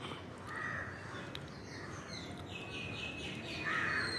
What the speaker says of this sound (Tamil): இப்போ காக்கை போய் களைச்சி விட்டுச்சு, துரத்தி விட்டுச்சு.